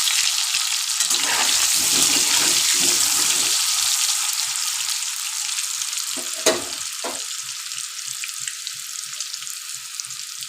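Steady frying sizzle of chicken in a pan fills the whole stretch, with a few soft clinks and stirring scrapes partway through.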